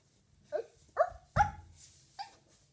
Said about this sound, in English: He's some kind of doggy from Mickey Mouse Clubhouse.